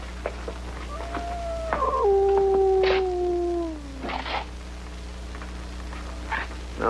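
A dog howls in long, drawn-out wavering tones that rise and fall, loud and fairly close over a steady low hum, with quieter whining cries afterward and no talk, set in a late-1950s television drama.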